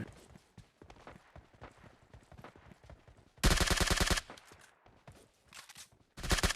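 Automatic gunfire in a mobile battle-royale shooter game, loud rapid bursts cutting in after a stretch of quieter footsteps and game ambience, then a second burst at the end.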